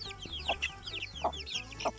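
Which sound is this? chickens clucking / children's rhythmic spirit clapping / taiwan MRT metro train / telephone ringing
chickens clucking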